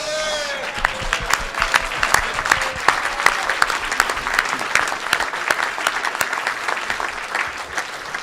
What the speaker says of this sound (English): Please, everybody, standing ovation for Zach.